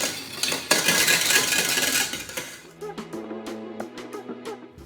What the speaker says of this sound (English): I'm just adding the coconut oil, and I'm going to whisk that